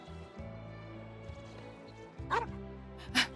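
Dog barks in Final Fantasy VII on PC, two short sharp yaps standing out over a steady game music bed.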